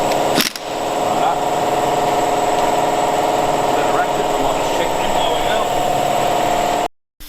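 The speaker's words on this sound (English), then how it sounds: "Sorry about that, compressor turned on" Air compressor in a garage running steadily at full loudness, a continuous motorized drone with a buzzing hum that starts abruptly and holds for several seconds before cutting off near the end.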